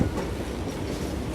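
A train in the Call of Juarez video game rattles along the tracks, a loud, dense clatter of wheels and rumbling cars filling the short stretch without pause.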